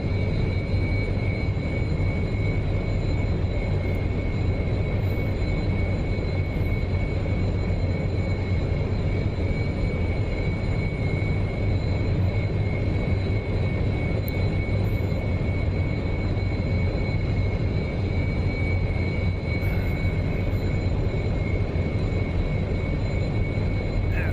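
Constant drone of an SR-71 jet aircraft's engines in the DCS flight simulator, a steady loud rumble with a high whine held evenly throughout.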